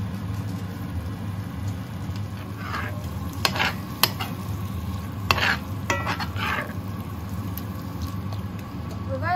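Seasoned meat fries in a pan with paprika, sugar and salt, a constant sizzle beneath repeated scraping stirs and clinks of a utensil against the pan, close and clear.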